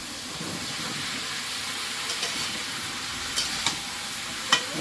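Pumpkin and potato pieces hitting a hot frying pan in an outdoor Sundarban kitchen, a steady hissing sizzle with occasional scraping stir clicks and small knocks of the spatula, no talking.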